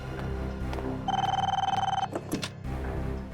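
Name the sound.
telephone ringing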